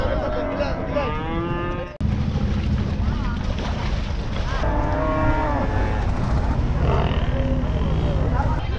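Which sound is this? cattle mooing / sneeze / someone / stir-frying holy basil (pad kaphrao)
cattle mooing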